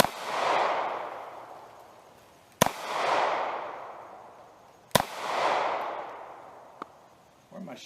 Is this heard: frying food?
no